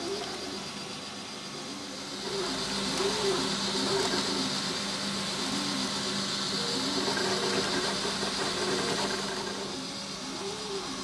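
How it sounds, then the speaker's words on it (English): A 3D printer running mid-print, with a cylinder of two walls and lattice between, makes a soft steady whir with faint repeating stepper-motor tones, close and quiet, without speech. "we're just checking in on the print"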